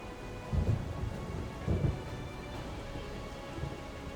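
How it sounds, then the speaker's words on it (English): Thunder rumbles during a rainstorm at sea in the submarine game Silent Hunter 4, two low booming rolls over steady hissing rain, loud and heavy, with no voices. "Did we get struck by lightning?"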